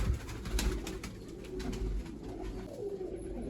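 Pigeons handled and let go one by one at a loft; soft coos and light wing flutters with scattered bird calls, moderately close, no talk.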